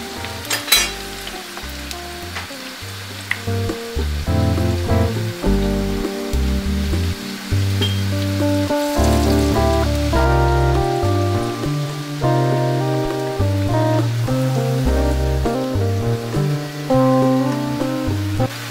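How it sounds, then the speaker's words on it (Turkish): Steady sizzling and crackling of börek frying in plenty of hot oil, continuous and close, with occasional clinks and bubbling pops. "Bolca yağın içerisine atıp böreklerimizi kızartıyoruz."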